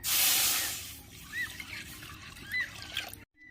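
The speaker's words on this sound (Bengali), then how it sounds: "উনানে কড়া বসিয়ে দিয়েছি, জল দিয়ে দেবো।" Water poured into a kadai set on a stove, with a bright, splashy gush at first that settles into softer trickling and dribbling before it stops abruptly.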